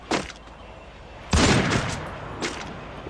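Gunfire in a mobile battle-royale shooting game, played with a double sniper setup: a sharp shot near the start, then a loud burst around the middle with a lingering rumble, and a fainter shot afterwards, with no talk.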